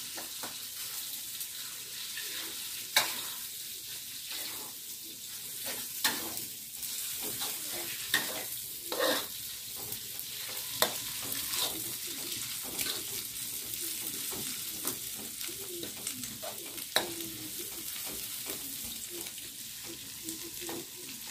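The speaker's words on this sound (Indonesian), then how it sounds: "aduk-aduk ya biar telurnya merata" Spaghetti with egg being stirred in a hot pan, a soft steady sizzle broken by repeated scraping and clinking strokes of the utensil, close up with no talking.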